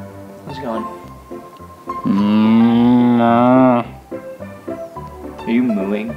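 A person imitates a cow's moo in a quiet library, a long drawn-out low call in the middle, with brief vocal sounds before and after it.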